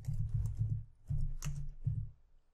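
Someone types on a computer keyboard with a few soft, muffled keystroke bursts, close and fairly quiet, coming in uneven clusters over a couple of seconds.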